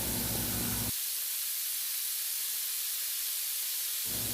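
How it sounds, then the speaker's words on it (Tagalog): Garlic and ginger sizzle in a hot pan for beef pares, a loud, steady hissing crackle that runs throughout, with a low rumble at the start and end. "Dito, igisa naman natin ang bawang."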